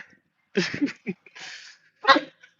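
A dog in a residential neighborhood gives several sharp barks and yips in short bursts with pauses between, fairly close and clear against an otherwise quiet background.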